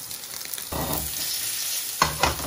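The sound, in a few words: rump steak frying in a pan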